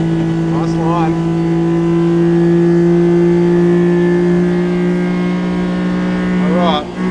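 A tiny truck's small engine, fitted with a cheap Temu supercharger, drones loudly and continuously at high revs, a steady tonal hum holding nearly constant pitch throughout, with brief voice-like chirps riding over it.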